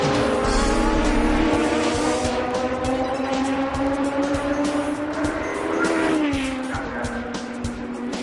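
A Formula Malaysia single-seater race car at the 2005 Malaysia GP support race is heard on track, its engine screaming loud and steady as it accelerates, then easing slightly in pitch before surging on, with no talk over it.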